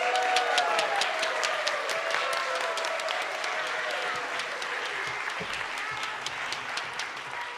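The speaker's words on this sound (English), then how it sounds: "How about one more round of applause for our new members?" A congregation at a church service breaks into sustained applause for its new members, a dense, even wash of many hands clapping that fills the room and fades slightly toward the end.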